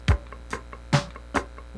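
Four muted guitar strings scratched on the third string in a funk rhythm, short percussive chucks spaced evenly and played close and quiet, alone without talk.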